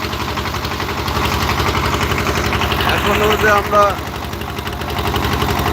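A boat engine runs steadily on the open haor waters of Sunamganj, a loud, even mechanical drone throughout with someone talking over it.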